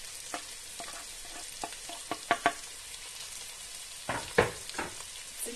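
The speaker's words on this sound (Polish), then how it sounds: "Jak widzicie, już mi się tutaj przypiekają." Shrimp crackle softly in a pan on a low background sizzle, with scattered sharp pops and spoon scrapes, and a busier burst of stirring toward the end.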